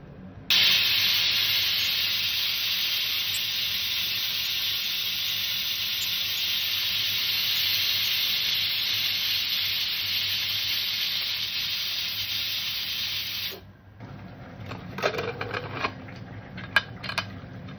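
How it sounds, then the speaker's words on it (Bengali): A pressure cooker whistles steam hard while cooking mutton rogan josh, a loud steady hiss lasting about thirteen seconds before cutting off, followed by quieter kitchen clatter and small knocks. "এবার সিটির জন্য ওয়েট করতে হবে, বেশ অনেকগুলো সিটি।"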